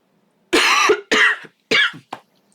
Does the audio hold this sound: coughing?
yes